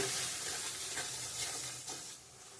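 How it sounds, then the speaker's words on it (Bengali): A salted spice paste for jackfruit and prawn curry is sautéed in a pan, giving a faint, steady sizzle and soft stirring without any voices. "লবণ দিয়ে দিলাম ভালো করে কষিয়ে নিব মশলাটা"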